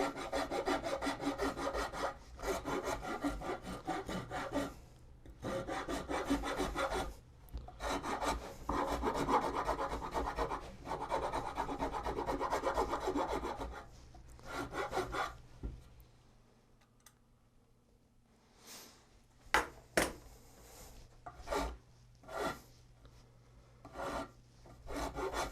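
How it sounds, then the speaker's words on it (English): A finer rasp files the wooden neck of a guitar being thinned to thickness: steady back-and-forth rubbing strokes in long bursts, close and fairly loud, then pauses and a few sharper isolated scrapes near the end, with no talking. "I'm going to switch over to this finer rasp."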